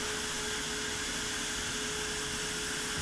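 A CNC router spins a 1/4 inch V-bit while carving letters into a workpiece, a constant loud high-pitched whine with a steady tonal hum and broad rushing noise, unbroken throughout.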